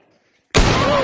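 A video game gunshot marks a headshot, one sudden loud blast after half a second of near silence, with a ringing tail that follows.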